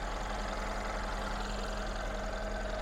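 A Mercedes E550 engine idles with the hood open, a steady, even hum with a low drone running unchanged throughout, close and moderately loud with no talking.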